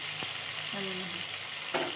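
Lote fish (Bombay duck), drained of water, frying in hot oil in a home kitchen, a steady soft sizzle with a couple of brief stirring clatters, no talk.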